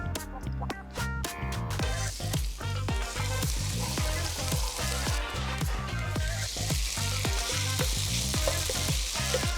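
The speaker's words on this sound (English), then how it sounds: "going to toast up some grated shiitake mushrooms" Grated shiitake mushrooms toast in a hot pan, sizzling steadily for a vegetarian stir-fried mee tai mak, while a utensil stirs and scrapes in regular clacking strokes, close and fairly loud.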